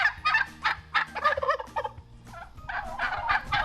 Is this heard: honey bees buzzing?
no